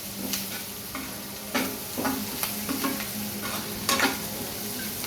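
A spoon stirs chili powder and turmeric through potato curry in a pan, giving a few sharp scraping strokes over a steady low sizzle.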